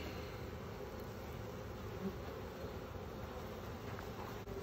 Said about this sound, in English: So that's what we want to see is their happy bees